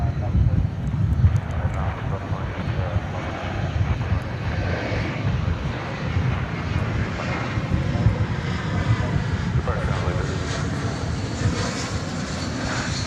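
An aircraft on approach to a runway at DFW Airport rumbles as a broad, steady engine roar with wind buffeting, while someone talks over it throughout.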